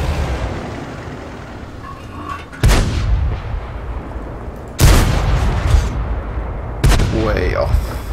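A plunging derp cannon in a tank video game fires three heavy booming shots, each a loud blast with a rumbling tail, spaced a couple of seconds apart over steady engine noise.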